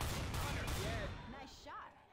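Rapid gunfire from a Left 4 Dead 2 match, thick overlapping shots that pound continuously then thin out, with players speaking over it.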